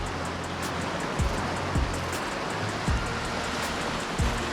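Surf washing onto the beach at Devbagh near Malvan, a steady broadband roar of sea waves with a few soft low thumps as breakers land, heard alone at moderate distance.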